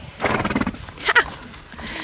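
A horse gives a short, close neigh while riders head out, with the clip-clop of hooves and faint movement noise around it.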